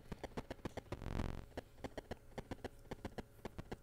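Horse hooves clip-clop in steady, evenly spaced beats, like coconut shells knocked together, in a video game set in the woods, with a brief louder whooshing burst partway through.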